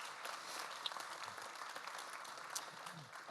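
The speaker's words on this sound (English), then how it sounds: "Please give them a welcoming round of applause." A room full of people applauds steadily, a dense wash of clapping that holds at an even level throughout.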